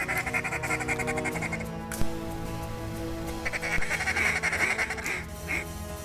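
Gadwall ducks quack repeatedly on an opening-week waterfowl hunt, a busy overlapping chorus of nasal calls from several birds at moderate distance, with a short sharp knock partway through.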